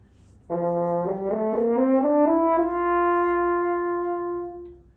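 A horn fitted with keys and valves sounds one close, continuous tone that slurs upward through several pitches, then settles and holds a steady note before fading.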